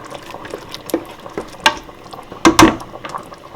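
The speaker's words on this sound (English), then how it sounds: "And the spaghetti is boiling away now." Spaghetti boiling in a pot on the stove gives soft irregular bubbling and a few louder pops and splashes, close by with no talking.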